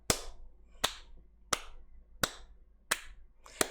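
Six sharp, crisp hand claps ring out close by in a steady, evenly spaced rhythm, each one a single loud smack with silence between, no other sound around them.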